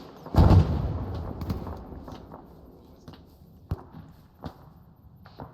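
A grenade blast in an outdoor military field training ambush: one loud, heavy boom near the start, followed by fainter scattered thuds and cracks over a lingering rumble.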